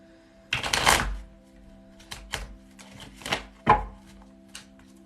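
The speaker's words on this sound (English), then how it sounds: "One more shuffle and the cards are for you." A deck of tarot cards is shuffled by hand, giving one longer riffling burst followed by several short, separate flicks and taps, close and fairly quiet.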